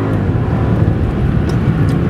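Supercharged 2005 Mercedes AMG accelerating hard, a loud, steady, dense engine roar filling the low end throughout, with no voices over it.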